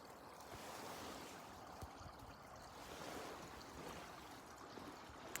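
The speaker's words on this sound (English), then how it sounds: "I want to look at the stream again, the waterfall." Mountain stream spilling over a small waterfall outdoors, a constant rushing, hissing wash of water at moderate distance, steady throughout with no voices.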